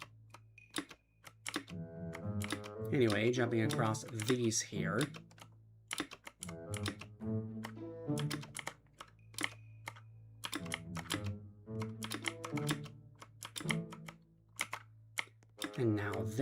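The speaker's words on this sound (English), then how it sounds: "it's a mechanical keyboard" Rapid clicky typing on a mechanical computer keyboard runs throughout a gaming stream, steady bursts of keystrokes under intermittent talk and a low background hum.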